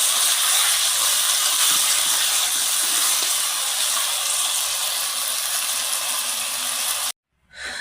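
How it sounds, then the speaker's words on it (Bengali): Water poured into a pan of cooking fish curry sets off a loud, steady sizzling hiss and gush that runs for several seconds, then cuts off abruptly before resuming faintly. "তরকারি পাতানো হয়ে গেল, আমি এখন পানি দিয়ে দেবো"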